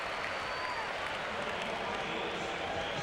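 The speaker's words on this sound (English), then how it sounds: "That brings a roar from the crowd." A baseball crowd at a 1993 Cubs–Braves game roars after an infield pop fly is caught, a steady, distant wash of cheering and applause filling the whole moment without a break.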